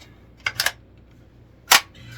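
Sharp metallic clicks from a GSG 16 .22 rifle action being cleared: a quick double click, a pause, then one louder snap, close and alone in a quiet room.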